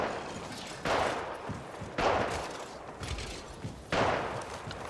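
Gunfire in Apex Legends comes as three separate short bursts, each about a second apart, set against a quiet background.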